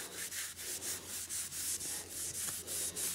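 Rhythmic back-and-forth rubbing on the wetted wood surface of a rifle stock being cleaned, about a dozen even strokes in quick succession, close and fairly quiet, with no talk.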